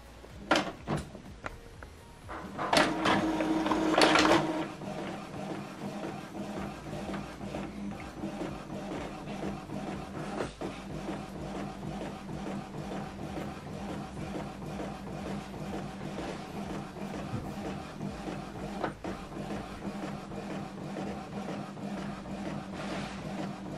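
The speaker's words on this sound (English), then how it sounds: "Now it's printing the network status sheet." An Epson WF2910 printer running off a network status sheet, with steady mechanical whirring and rhythmic feed motion throughout, preceded by a louder burst of clunking as the print starts.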